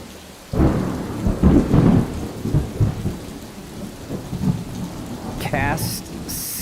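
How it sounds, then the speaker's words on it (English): Rain and thunder conjured by a rain scroll in the video game Divinity: Original Sin, a sudden loud thunder crack followed by rumbling and heavy rainfall, with brief game interface chimes near the end. "used the rain scroll"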